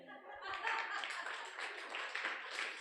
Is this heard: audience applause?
yes